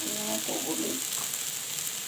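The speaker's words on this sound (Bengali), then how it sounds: "তো দেখুন এটাকে ভালোভাবে ভাজা করতে" Jute leaves (pat shak) fry steadily in a pan with a soft, continuous sizzle, briefly joined near the start by a faint voice.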